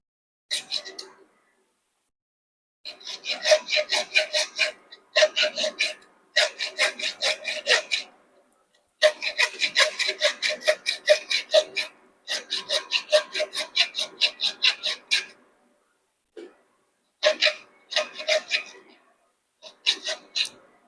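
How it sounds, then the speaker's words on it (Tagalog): A hand saw rasps through wood in bursts of quick back-and-forth strokes, close and crisp, with short pauses between runs. "Subukan natin yung lagari na to kung matalim."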